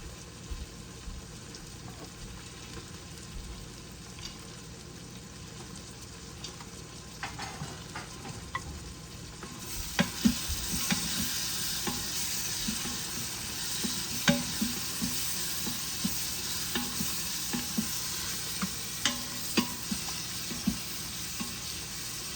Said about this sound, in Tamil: இப்போ புதினாயில் போட்டுக்கொள்கிறேன் கொத்தமல்லியில்